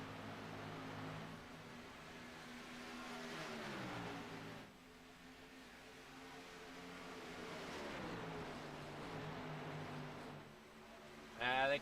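Xfinity Series race cars at Texas in a racing video game drone and whine continuously, engine pitch rising and falling through shifts as the cars run down the front stretch and into the first corner, with commentary over the engines.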